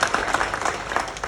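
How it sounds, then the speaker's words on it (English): A round of applause at a leaving presentation, fairly faint, steady clapping from a gathered group, brief and with no voices over it. "A massive round of applause"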